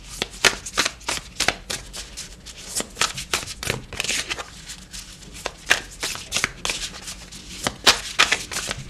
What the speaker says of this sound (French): On va aller chercher une autre carte du tarot.